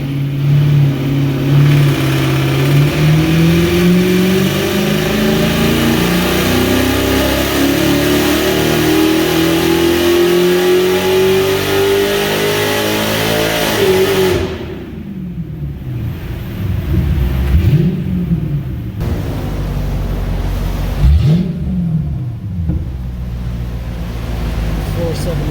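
A full bolt-on Mercedes SL55 AMG roars through a dyno pull on its first run after a tune, the engine note climbing steadily in a long loud sweep before backing off into a few lower rev blips and rumbling.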